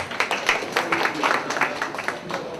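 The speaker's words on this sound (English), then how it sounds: "Applause for him, please." Scattered audience clapping at a university orientation ceremony, uneven and fairly sparse, with individual claps audible in a short burst under light crowd noise.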